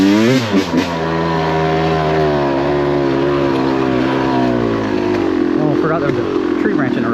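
A Yamaha YZ250X two-stroke dirt bike engine runs loudly and close, holding a steady buzzing tone that rises and wavers toward the end, with someone talking over it.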